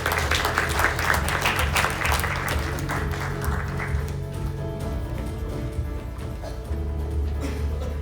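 An audience at a Bank of Korea symposium in Jeju applauds a presenter, clapping loud at first and then thinning and fading out over several seconds.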